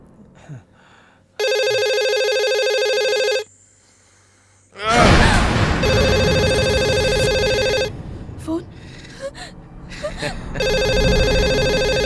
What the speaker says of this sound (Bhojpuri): फोन काहे ना उठाओ ताड़ी? लगातार सुन गइल बाड़ी।